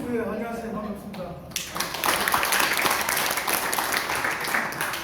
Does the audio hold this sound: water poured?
no